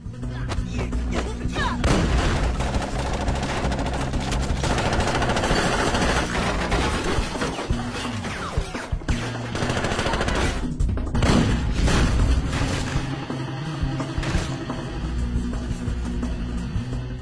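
Dense bursts of rapid gunfire and booming blasts fill a chaotic battle, continuous and loud with layered explosions throughout.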